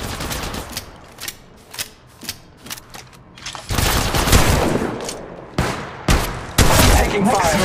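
Gunfire in Apex Legends Mobile, with a run of evenly spaced single shots giving way to dense, loud automatic bursts and mechanical clatter, close and sharp, with brief pauses between volleys.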